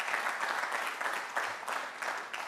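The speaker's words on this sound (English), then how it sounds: "y'all ought to give her a round of applause" An audience at a university commencement ceremony applauds, steady dense clapping filling the hall throughout, fairly loud and continuous with no voices standing out.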